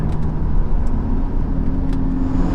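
Lamborghini Gallardo LP550-2 engine droning steadily while driving at night, a loud continuous low rumble heard from inside the car with no voices.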